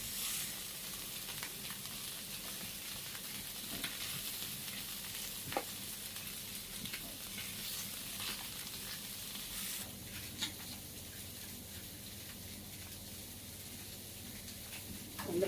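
Fish frying in a pan at home in the early morning, a steady broadband sizzle with soft crackles and a few brief clatters, fairly quiet and continuous with no talk.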